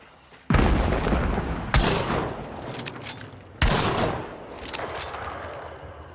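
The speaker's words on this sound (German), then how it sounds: "Wieder extrem beschissen geschossen." Heavy gunfire from the game Hunt: Showdown, with three loud, close shots each followed by long rolling echoes and reverberant tails, sounding alone without talk.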